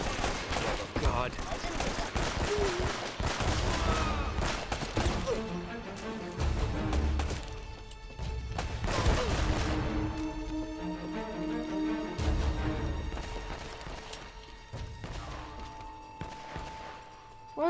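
Gunfire in the action game Uncharted 4, bursts of shots and crashes going off repeatedly through the clip, loud and close, with a player talking excitedly over the combat.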